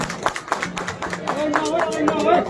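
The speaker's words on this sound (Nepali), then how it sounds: "जोरदार तालीले स्वागत गरौँ।" An audience at the Nepal Festival 2022 in Japan claps to welcome Prachanda, a scattered run of hand claps at close to moderate distance over a short stretch.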